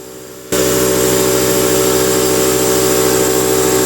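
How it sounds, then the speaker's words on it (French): Air compressor starting up beside a wasp nest and droning on steadily, a loud, constant mechanical hum with a hiss that stays level to the end. "c'est le bruit du compresseur qui les déstabilise aussi"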